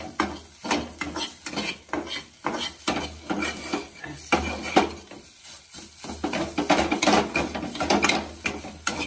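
Ladle stirring milk powder into pumpkin halwa in a pot, giving a steady run of scraping, clinking strokes against the metal with faint sizzling, close and continuous with no talk.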